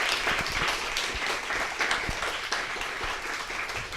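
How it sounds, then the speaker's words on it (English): A quick round of audience applause at a speaker series talk, dense and steady clapping from a seated crowd that carries on for a few seconds. "would you give her a quick round of applause?"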